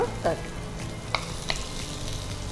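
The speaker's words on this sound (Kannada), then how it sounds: "ಈಗ ಇದಕ್ಕೆ ಟೊಮೆಟೊ ಹಾಕುವ." Tomato goes into onions frying in a pan for chicken sukka, giving a steady close sizzle with a few sharp clinks of a utensil against the pan.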